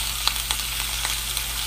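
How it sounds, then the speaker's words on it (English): A bone-in ribeye cowboy steak sizzles steadily in a hot pan, a close, continuous hiss and crackle with small pops and no voices. "So we're gonna let that sizzle."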